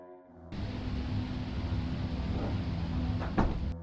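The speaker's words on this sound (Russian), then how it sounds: "Спустя несколько мгновений дверь начинает закрываться." A door swings shut on its own, making a low creaking, scraping rumble that runs steadily for a few seconds and ends in a brief knock near the end.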